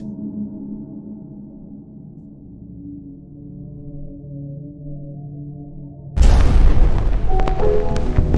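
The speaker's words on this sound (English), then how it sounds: "oh, I just shot. I just instantly shot" A sudden, loud, booming gunshot in The Final Pin horror game breaks through a low, droning ambience and is followed by a rumbling, ringing tail.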